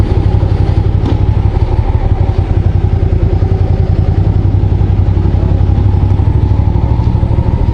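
A Hyosung GV650 Darwin motorcycle engine runs steadily after an oil change, its loud, close, pulsing idle thumping evenly throughout.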